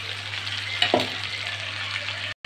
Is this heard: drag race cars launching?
no